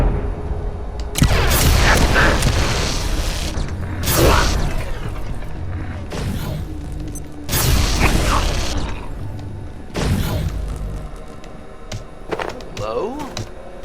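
Grenade explosions go off in the Abiotic Factor video game, several heavy broadband booms spaced a few seconds apart, each decaying into rumble and mechanical clatter, with voices in between.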